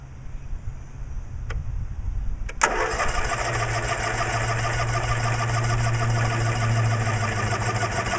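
Cub Cadet 1862 lawn tractor engine cranking briefly, then catching at about two and a half seconds and settling into a steady, loud close-up running drone for the rest of the time, with no one talking.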